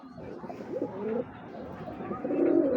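A pair of pigeons, red khaki or copper khaki, coo in soft, throaty rolling bursts, fairly close, over a low background murmur, with a longer steady coo toward the end.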